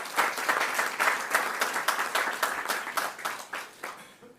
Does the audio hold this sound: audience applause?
yes